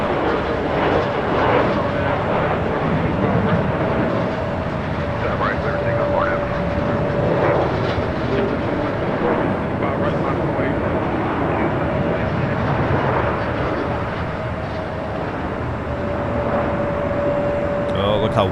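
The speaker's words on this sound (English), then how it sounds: "this is flight coming up from JFK, flight 767 on the 767-300ER" A Boeing 767-300ER jet arriving at Los Angeles LAX from JFK in wet weather gives a sustained engine rumble with a steady whining tone, while people talk over it.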